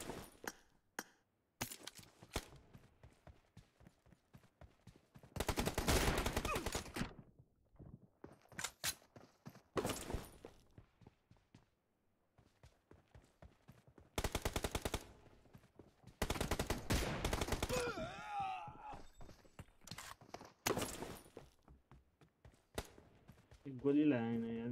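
Gunfire in the PUBG Mobile battle royale game, with repeated bursts of shots and rapid automatic fire in several loud clusters, separated by quieter stretches of footsteps and game sounds, with voices talking over parts of it.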